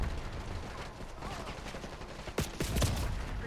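Call of Duty: Black Ops 6 multiplayer gunfire: a tight burst of several rapid shots cracks out near the end after a low, rumbling stretch of battlefield ambience.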